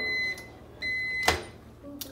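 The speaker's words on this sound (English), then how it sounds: "we're going to put it back in the microwave with a paper towel over it" A kitchen microwave oven, used to reheat food under a paper towel, gives two sustained electronic beeps, followed by a sharp door clunk and a faint click, close by with no voices.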